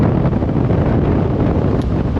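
Strong wind buffets the microphone while riding a motorbike on a road in Arunachal Pradesh, a loud, steady roaring rumble that fills the whole clip with no voices.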